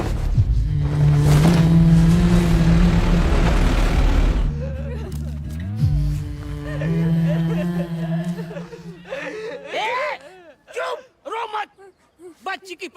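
Tractor engine in a film scene as a farmer's tractor is taken away: a loud, steady low engine drone for several seconds, then fading as voices, sobbing and talk take over.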